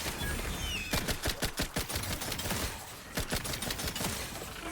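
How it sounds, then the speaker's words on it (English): Rapid bursts from a fast-firing weapon in The Outer Worlds video game, clustered volleys of quick shots separated by short pauses, moderately loud within the game soundscape. "this thing is shooting exceedingly quickly now"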